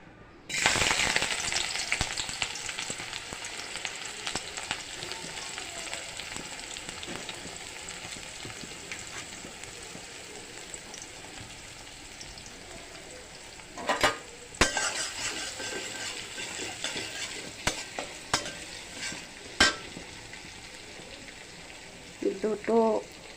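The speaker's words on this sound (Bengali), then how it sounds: "এবার পেঁয়াজ কুচি দিয়ে দেব" Chopped onions go into hot oil in a wok for a potato curry, giving a steady broadband sizzle and frying hiss with intermittent stirring clatter and occasional utensil knocks, fairly close and without talk.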